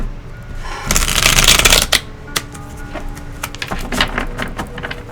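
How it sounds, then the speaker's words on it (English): Tarot cards are shuffled up close, a dense riffling burst followed by a series of lighter taps and flicks as the deck is squared and handled. "One more shuffle."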